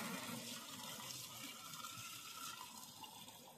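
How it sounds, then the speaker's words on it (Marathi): Spring water rushes and gurgles steadily close by at Jaigad, a continuous flowing wash with no voices. "जिवंत वाहणारा झरा."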